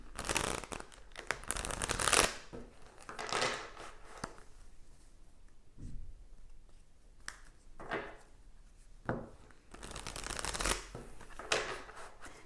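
Tarot cards being shuffled in repeated riffling bursts, close and fairly quiet, with brief pauses between rounds and no talking.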